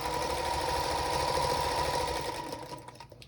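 A sewing machine stitches pinned charm-square quilt pieces in a steady, fast, close-up run, its even hum holding for about two and a half seconds before slowing and stopping.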